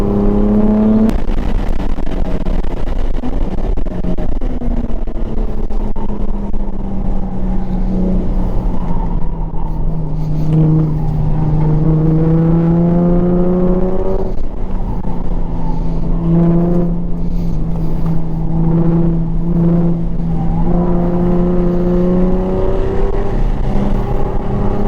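A JDM-swapped Nissan 350Z engine drones loudly and steadily on a race track, its pitch sweeping up and down through shifts and throttle changes, heard from inside the car without talk.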